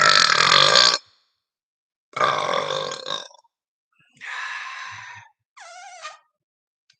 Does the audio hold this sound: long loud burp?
yes